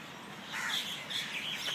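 Wild pigeons in a flock, calling and chirping at moderate distance, several overlapping short calls over open outdoor ambience.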